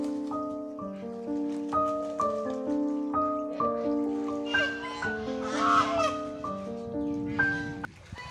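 Ducks honk and quack in a steady, overlapping chorus, loud and close, with no talking.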